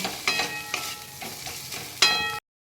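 Spices with Kashmiri red chili powder and turmeric sautéing and being stirred in a pan, a soft sizzle broken by several scraping stir strokes, close and moderately loud, ending abruptly.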